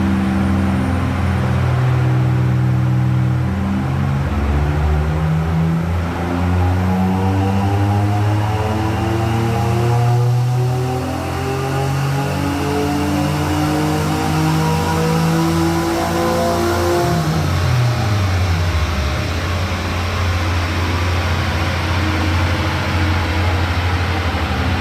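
Acura J-series V6 on a dynamometer during a full pull, engine note rising steadily in pitch as revs climb, then dropping sharply near the end as the throttle closes; loud, close and continuous, with no talking.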